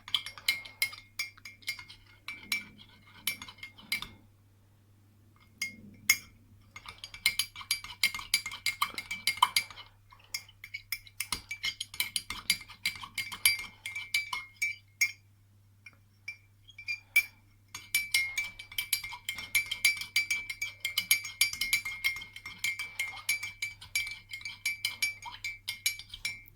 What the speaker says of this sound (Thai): คนไปเรื่อยๆเลยนะคะ เดี๋ยวก็เข้าค่ะ